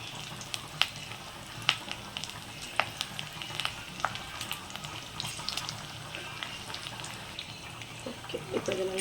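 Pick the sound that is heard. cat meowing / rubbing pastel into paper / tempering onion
tempering onion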